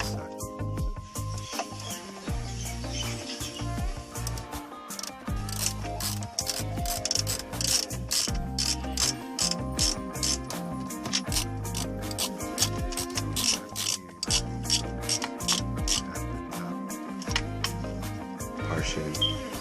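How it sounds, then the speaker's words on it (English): A 10mm ratchet and socket work bolts loose on a Lexus IS300 radio panel. Rapid ratcheting clicks come in long runs, close up and steady, under a voice talking through much of it. "You will have to use a 10mm ratchet and socket"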